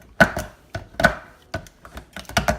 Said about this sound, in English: I'm just going to kind of chop this up.